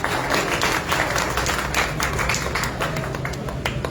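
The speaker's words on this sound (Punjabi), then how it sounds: "ਜਰਾ ਬਹੁਤ ਸਾਰੀ ਤਾਲੀਆਂ ਜੀ" Steady audience applause at a shop opening event, dense continuous clapping from a crowd lasting the whole stretch at an even level.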